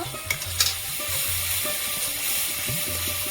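Water and salt added to sizzling gravy in a pan, with loud, close frying hiss and spluttering under repeated ratcheting scrapes of a spoon stirring against the pan.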